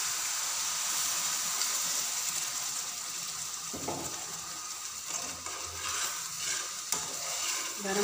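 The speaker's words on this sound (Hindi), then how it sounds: "इसमें धीरे धीरे करके ये शुगर सिरम डाल दूँगी और सूजी हलवे को पका लूँगी" Sugar syrup poured into cooking semolina halwa and stirred, a continuous hissing sizzle with bursts of bubbling and scraping spoon strokes, close and moderately loud, no voices.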